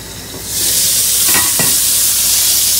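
Loud, steady sizzle of pork chops frying in a hot pan, rising after a moment and holding, with a couple of faint clinks, no talking.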